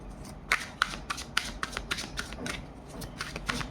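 Tarot cards being shuffled by hand, a close, soft riffle with quick repeated crisp snaps and flutters, fairly quiet with no talking.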